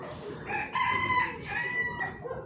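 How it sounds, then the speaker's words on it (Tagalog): A rooster crows loudly and nearby in Bulacan, its drawn-out call rising and falling and repeating, over a noisy outdoor background. "ang ingay ng manok"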